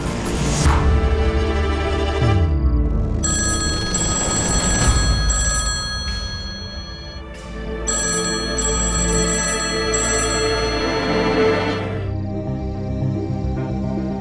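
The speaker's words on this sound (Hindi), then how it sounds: "किसका फोन है?" An old-fashioned telephone bell rings insistently in a household drama scene, loud, close and in long repeated bursts, with a short pause midway before the ringing resumes and dramatic music swells beneath it.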